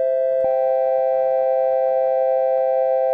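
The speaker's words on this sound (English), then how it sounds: "so that's just some basic oscillation." Basic oscillator tone from a Web Audio API browser synthesizer: one loud, steady electronic note with bright overtones that holds unchanged throughout, with a small click at its start and no voices.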